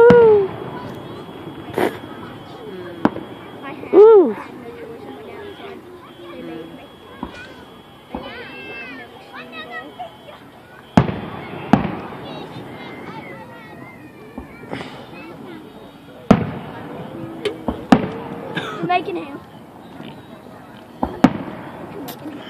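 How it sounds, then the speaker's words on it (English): Fourth of July fireworks over Chillicothe thump and crack at a distance in scattered bursts, with people talking throughout and a cat meowing at times. "A distant explosion sound."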